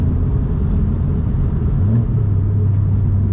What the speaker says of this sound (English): getting in a car, just whooping the throttle